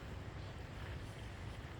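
Steady wind rumbles and blows across the microphone, a continuous low whooshing roar with no pauses and no voices.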